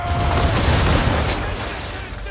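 Ship cannons fire a broadside in the Assassin's Creed 3 video game, a dense, loud roll of booming gunfire with rumbling low blasts overlapping throughout, under game music and effects.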